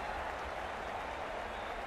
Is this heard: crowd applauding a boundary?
yes